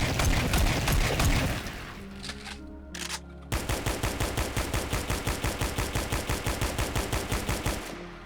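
Rapid automatic weapon fire from a video game: dense bursts of shots up front, a short mechanical pause, then a steady, evenly spaced string of loud punchy shots running to the end.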